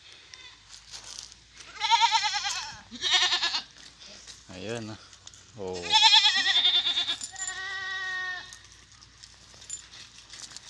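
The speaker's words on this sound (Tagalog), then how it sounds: "Naglalakad yung maliit na kambing." Goats, including a small kid, bleat in a rural province farmyard in Malusak, Mindoro, several loud calls in bursts while someone talks close by between them.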